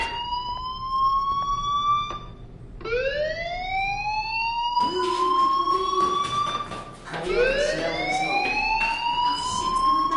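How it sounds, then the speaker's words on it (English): A fire alarm in the video game Life is Strange wails in three rising, siren-like sweeps that climb and hold, loud and continuous over a faint background hum, with no talking. "Hey, do you hear that fire alarm?"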